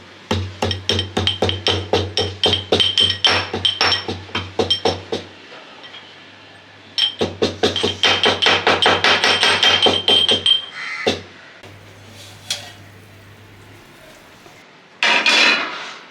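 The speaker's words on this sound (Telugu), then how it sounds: "చూడండి ఈ మెంతులను నేను దంచుతున్నాను" Fenugreek seeds pounded with a pestle for a bitter gourd tamarind stew: rapid, steady metallic thuds in two long bursts, then a few isolated knocks and a short final flurry, close and loud with no talk.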